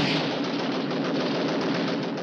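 Rapid gunfire crackles in a cowboy western film shootout, a dense, continuous burst of shots that stays loud and close throughout with no speech over it.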